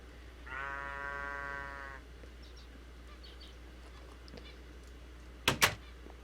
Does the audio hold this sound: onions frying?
no